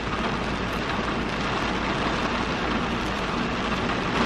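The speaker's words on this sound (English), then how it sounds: "Oh my gosh, it's rain." Heavy rain pours down outside, a loud, steady broadband hiss that stays constant throughout with no voices.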